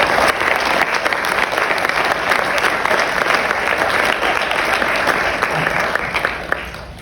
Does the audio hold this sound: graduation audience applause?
yes